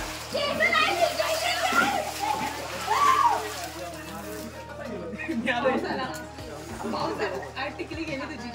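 People splashing in a swimming pool during a friends' trip to Alibag, with water sloshing and splattering under near, continuous chatter and children's voices.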